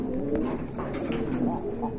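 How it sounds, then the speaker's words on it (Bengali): Soft, throaty cooing of several pigeons at a pigeon market, overlapping low rolling calls close by with faint background bustle. "এগুলা আসলে মোটামুটি রেয়ার হয়ে যাচ্ছে কবুতরগুলো, খুবই সুন্দর রানিং"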